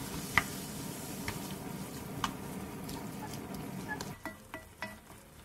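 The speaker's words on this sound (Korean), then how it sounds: "팬에 기름 두른 뒤 대파 넣고 김치랑 햄, 설탕, 진간장, 마요네즈 넣고 달달달 볶아줘요." Kimchi, ham and green onion stir-fried in oil with sugar, soy sauce and mayonnaise in a pan, a soft steady sizzle with scattered light spatula taps and scrapes toward the end.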